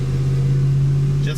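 A car engine is held at about 2,000 RPM, giving a loud, steady, low droning hum that barely changes across the short moment.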